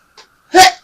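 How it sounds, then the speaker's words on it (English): A person coming down with a cold gives a short intake of breath, then one sharp, forceful sneeze up close. "Oh, I'm going to sneeze."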